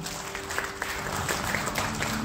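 A church congregation applauds in praise to God, steady dense clapping spread across the room at moderate level, with a faint sustained tone underneath.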